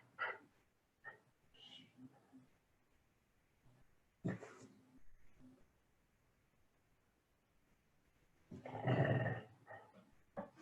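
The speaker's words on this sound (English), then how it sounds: "I have a rebellious, revolutionary dog." A dog gives low, rumbling growls in a few scattered bursts in a quiet room, the longest and loudest near the end, with soft breathing and stillness between.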